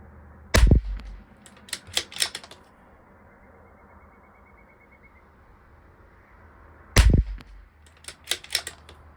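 Two loud rifle shots from a Bergara B14R Carbon on an outdoor range, each a sharp blast with a brief echo tail, about six seconds apart, with lighter clicks of bolt handling in between.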